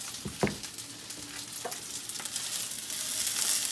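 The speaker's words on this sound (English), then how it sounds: "cook everything up until the shrimp looks cooked and ready to go" Shrimp and shallots fry in a pan for ramen fried rice, giving a steady rising sizzle with a few utensil scrapes near the start and no voices.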